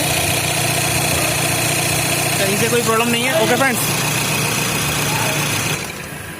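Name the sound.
Audi A6 2.0 car engine idling after start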